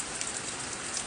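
Heavy rain pours down in a dense, steady hiss, close and unbroken, with no voices.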